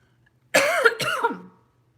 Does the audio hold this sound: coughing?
yes